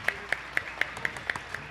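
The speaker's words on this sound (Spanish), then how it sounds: "Fuerte el aplauso." At a national huapango festival, the audience claps in a steady, even rhythm: seven sharp, evenly spaced claps over less than two seconds, moderately close and fairly quiet, with no talking over them.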